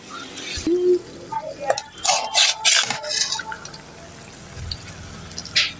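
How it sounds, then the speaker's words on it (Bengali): Broth poured into a pan over hilsa and small mola fish on a home kitchen stove, heard as several short close splashes and liquid trickles with light clinks of a pan or utensil, no voices. "আমি আগে মাছগুলোই দিই, এরপর ঝোল দিয়ে নিব।"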